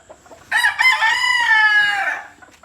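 Rooster crowing on a farm, one long loud close call rising then holding and trailing off over about a second and a half, standing alone against quiet surroundings.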